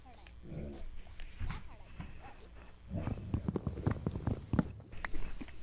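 A dog named Daisy growls low and quiet indoors, rumbling in uneven bursts that grow stronger toward the end, mixed with soft voices nearby.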